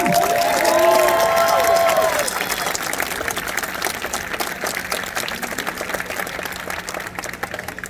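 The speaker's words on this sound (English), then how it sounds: "So how about a big round of applause for the class of" A graduation crowd at New England College claps and cheers for the class of 2022, a broad roar with whistles early on that settles into steady, fairly loud clapping.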